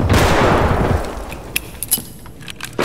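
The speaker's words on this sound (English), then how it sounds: "Who's throwing nades? Flash." Flashbang grenade goes off in Escape From Tarkov, a loud broadband burst at the start that decays over about a second into a ringing hiss, followed by a few sharp distant clicks and pops.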